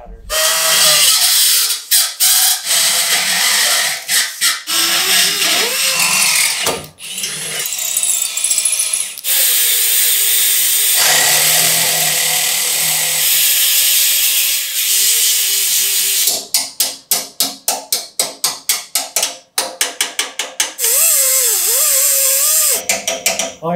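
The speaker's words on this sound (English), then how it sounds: "I'm sure none of this stuff I'm cutting out matters." A power tool cuts tubes out of a Honda CRF300L motorcycle frame, giving a loud, sustained high-pitched grinding whine that runs for long stretches, then breaks into a rapid series of short bursts near the end.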